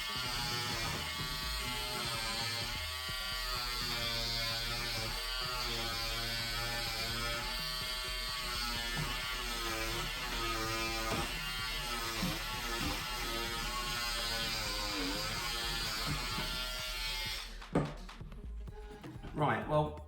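A Peggy's Stitch Eraser 3 works through embroidery stitches with a loud, steady electric buzz that wavers as it is pressed into the fabric, then cuts off near the end, leaving a few soft handling knocks.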